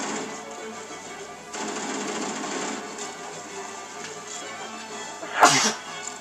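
A single sharp sneeze bursts out near the end, loud and close against a steady background of game sound during co-op play of Halo: Combat Evolved Anniversary.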